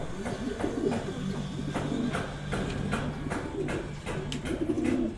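A racing pigeon coos repeatedly at the loft as it arrives home from a long-distance derby race, with steady, fairly close throaty calls and faint bird chatter around it.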